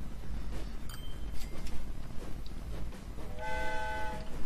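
A steam-era train in the railway-building game Train Fever rumbles along with rolling noise and clanks, then sounds a sustained multi-tone horn near the end, loud and close.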